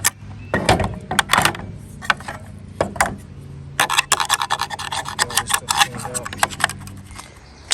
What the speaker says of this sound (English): I got a flat blade screwdriver, flathead screwdriver, and I'm cleaning this up